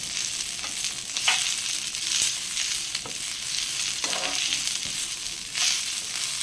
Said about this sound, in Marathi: आता हे काजू पण टाकले तिथे, थोडंसं परतून घ्यायचं